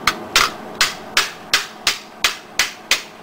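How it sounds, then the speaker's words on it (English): Nine sharp hammer blows ring out on soft mild steel at a steady, even rhythm, each strike loud and close with a brief clanging decay. "it's easy to bend with a hammer."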